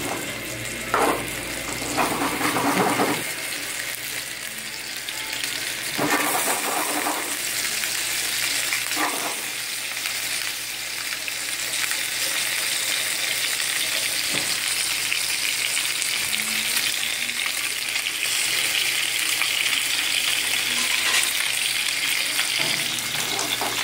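Pork for Korean bossam pan-searing in a hot pan, a steady loud sizzle lasting throughout with occasional clinks and stirring noises and faint water sounds, no talk.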